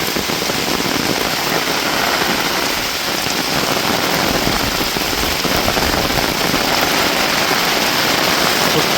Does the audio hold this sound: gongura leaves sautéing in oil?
no